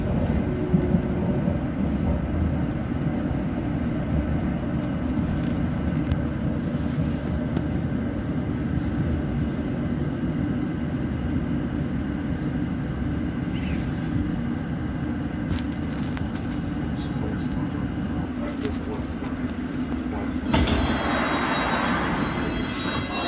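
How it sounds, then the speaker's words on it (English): A London Underground Hammersmith and City line train bound for Barking runs near Wood Lane, giving a steady, loud rumble with a few brief rattles and a hiss near the end. No voices. "This is a Hammersmith and City Line train to Barking."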